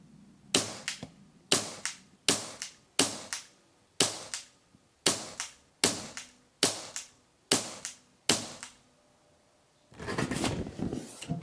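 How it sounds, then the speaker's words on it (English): A Weihrauch HW77 air rifle fires ten shots in a row, each a sharp crack followed by a brief mechanical clatter, evenly spaced about a second apart, then a short burst of rustling handling noise at the end. "10 shots, no chatting. Fire them off and we'll talk about it later."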